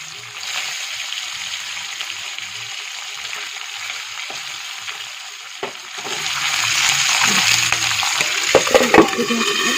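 Pork frying with turmeric and chili in a pan, a steady sizzle with occasional stirring clatter that grows louder partway through, with some talking.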